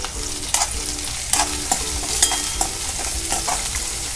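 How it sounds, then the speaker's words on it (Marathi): Finely chopped onion and garlic fry in hot oil tempering for a Maharashtrian sandgyachi bhaji, a steady sizzle broken by periodic spoon scrapes and stirs roughly every second. "कांदा आपण छान भाजून घ्यायचा आहे"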